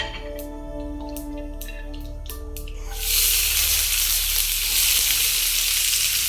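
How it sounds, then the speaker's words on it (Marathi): Radish pod pieces hit hot tempering oil with cumin and turmeric, a faint crackle with a few sharp pops giving way to a sudden loud, dense sizzle that holds steady to the end, no voices. "आता आपण त्यात स्वच्छ धुतलेल्या डिंगऱ्यांचे तुकडे फोडणीत टाकणार आहोत."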